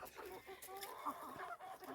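Faint clucking from a few chickens being fed papaya, soft and intermittent, with light background noise.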